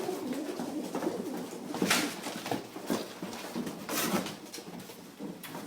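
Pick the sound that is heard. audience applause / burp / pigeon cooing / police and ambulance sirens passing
pigeon cooing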